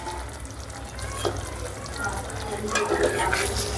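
A spoon stirring red food colour into shahi paneer gravy in a pan, a continuous soft scraping and bubbling sizzle, close and steady, with no talking over it.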